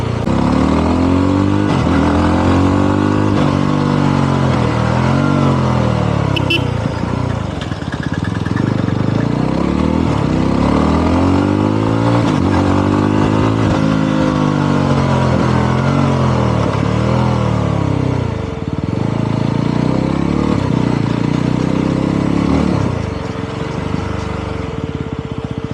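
A 2025 Yezdi Roadster top-model motorcycle is ridden with its engine running, a loud, close, steady engine drone that rises and falls in pitch through repeated revs and gear changes, without talking.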